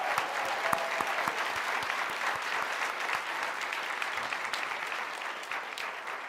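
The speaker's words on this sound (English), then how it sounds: "let's give her a big round of applause" An audience at a health summit keeps up loud, sustained applause, dense clapping that holds steady for several seconds before easing slightly at the end, with no voices.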